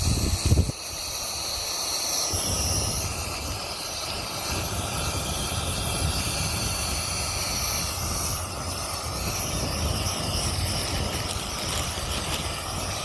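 Homemade solid rocket fuel burning with a steady, loud hissing roar and a high squealing whistle, continuous and unbroken after a brief ignition pop.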